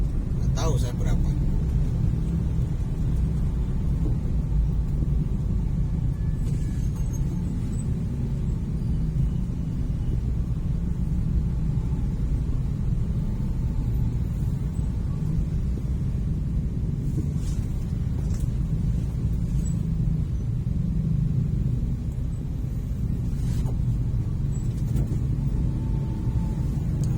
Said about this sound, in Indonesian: Nah ini nih yang saya kangen, memang kemacetan Ujung Berung ini nih.